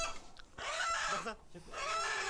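A desi (native breed) rooster squawks and clucks loudly at close range in two agitated bursts, with people talking in the background.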